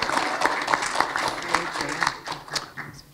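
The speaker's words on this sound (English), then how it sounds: "another big round of applause" An audience applauds at a county film premiere, a dense, steady crowd clapping that carries on at moderate loudness for a few seconds, close by with no pauses.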